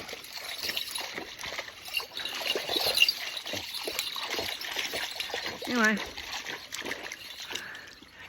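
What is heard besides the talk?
small creek waterfall trickling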